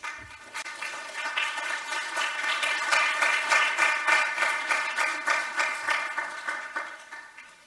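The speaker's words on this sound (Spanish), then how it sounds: "un fuerte aplauso para don Francisco Lamoneda" An audience at a Spanish lecture applauds the speaker, the clapping starting thin, building to a full, steady round, then thinning toward the end.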